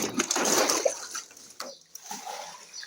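Water gushing and splashing from a burst polypropylene pipe flooding a basement shaft, a loud turbulent rush that surges and ebbs over a few seconds.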